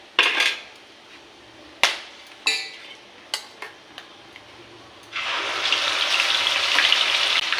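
Onion paste dropped into hot oil and ghee, a few sharp clanks and scrapes of utensils, then a loud, steady sizzle that starts suddenly and continues.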